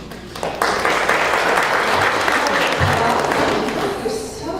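An audience of a South Carolina Republican women's gathering breaks into applause, a dense burst of clapping that starts abruptly and stays loud and steady before easing off.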